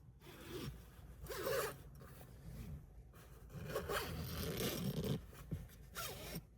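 A Velcro strap is torn apart in a few rough ripping bursts inside a car while car camping, close and fairly quiet, with no talking.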